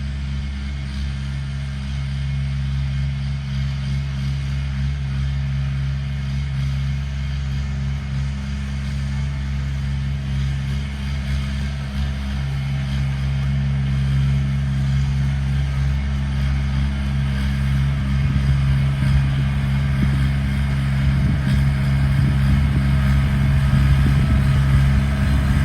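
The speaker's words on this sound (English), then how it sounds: "Now let's see how this tractor does and the real speed." Kubota BX2680 sub-compact tractor running steadily, a loud continuous low engine drone with a constant hum that builds slightly toward the end, no voices.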